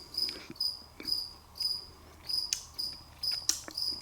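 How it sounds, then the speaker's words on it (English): A cricket chirps steadily in a garage wall, its short high trills repeating about every half second, close and clear against a quiet background. "Mr. Cricket."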